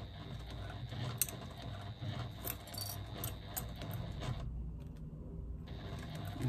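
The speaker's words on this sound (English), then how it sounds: "I'm going to top stitch around the outside, doing one back stitch to secure my threads at the beginning of my stitching" A sewing machine slowly top stitches faux leather with an eighth-inch seam allowance, making a soft rattling mechanical run of quiet clicks and ticks that stops briefly near the end, with no talking.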